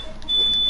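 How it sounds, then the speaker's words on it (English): A steady high-pitched electronic beep, probably from a microwave, holds for most of the moment, moderately loud over a low room hum. "Who's got that really annoying beeping sound?"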